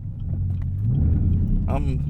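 Chevrolet Camaro ZL1 launching hard with a no-lift shift, its loud, close engine rumble climbing steadily before a sharp rising whine and burst near the end, with a voice audible over the engine.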